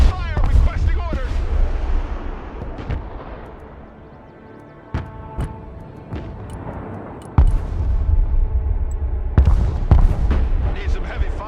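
Gunfire and artillery in the war game Broken Arrow, with sharp impacts and booming blasts scattered over a dense rumbling battle bed, several loud hits standing out, while soldiers' voices call out over the din.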